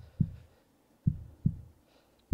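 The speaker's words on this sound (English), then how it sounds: "It's time to add some heartbeats to the audio." Heartbeat sound effect laid over the audio: deep, muffled thumps with a pause, then a quicker double beat, then one more starting, quiet and alone.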